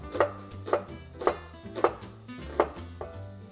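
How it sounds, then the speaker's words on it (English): A knife slices through a halved peeled onion on a cutting board, five or six crisp, evenly spaced chops close by with quiet pauses between, no talk. "you take it in half, and then you want to make slices nice and easy"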